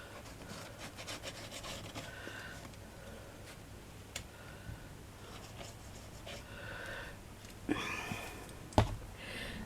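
A glued shadow box piece being rubbed down by hand, a soft continuous scraping rub up close with a few light taps and clicks scattered through.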